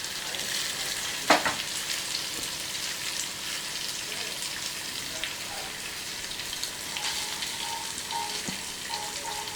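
Small nethallu fish coated in masala fry in a pan over a medium flame, giving a continuous crackling sizzle with an occasional sharper pop or stir.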